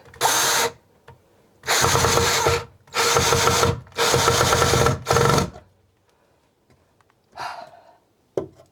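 A timber screw driven into wood with a power driver, four loud close bursts of whirring grind, each a second or so long with short pauses, then a fainter brief whir and a click.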